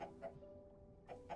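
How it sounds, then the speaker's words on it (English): Chickens in a Minecraft modpack give two quick pairs of soft, game-like clucks, faint and close, separated by a short gap. "have chickens, I see"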